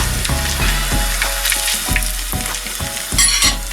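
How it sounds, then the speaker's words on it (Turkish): Meatballs fry in hot oil in a pan, giving a constant loud sizzle broken by repeated sharp clacks of a utensil against the pan at a steady pace. "Kızgın yağda olması gerekiyor ki yağı içine çekmesin köfteler."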